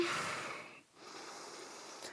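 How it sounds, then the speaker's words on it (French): A slow, deep breath during a family yoga session, a soft airy inhale that pauses briefly, then a long, gentle exhale, close and quiet with no talking. "Profonde respiration."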